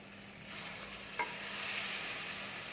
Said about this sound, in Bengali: দেখুন মশলাটা ভালো করে এর সাথে মাখিয়ে নিচ্ছি আমি